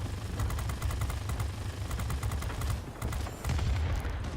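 Machine guns of a Ki-43-Ic fighter in World of Warplanes fire in steady rapid bursts over a constant engine drone, with brief pauses between strings of shots.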